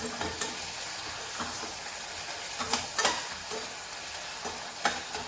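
Chopped onions and green chillies fry in a pan with no spice powders, giving a steady close sizzle broken by periodic scrapes and clacks of a stirring spatula; no one talks.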